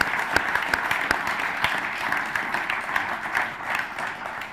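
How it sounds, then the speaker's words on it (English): An audience at a talk on arable farming robotics and automation applauds for two speakers, a dense, moderately loud burst of clapping that carries on steadily for several seconds. "So can you give a big round of applause to our two speakers?"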